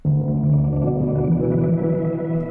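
A sustained digital piano chord from a modular piano sample in music software rings out with an odd echoing tail, steady and full for over two seconds before fading slightly, heard alone.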